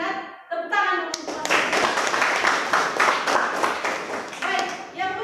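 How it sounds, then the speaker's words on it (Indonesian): Students in a Grade VII classroom clap together after a teacher's prompt, a burst of close, sharp hand claps with children's voices and talk around it. "Tepuk tangan dulu."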